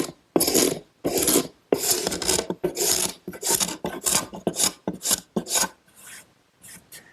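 A steel hand scraper pulls dried glue off a wooden Shaker woodbox in a series of rapid, loud rasping strokes, about a dozen close-up scrapes with short pauses between them.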